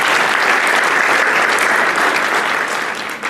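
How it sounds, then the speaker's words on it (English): Sustained audience applause at an award ceremony, dense steady clapping from a full room that holds for several seconds before beginning to taper off. "So give them a big round of applause for the dedication."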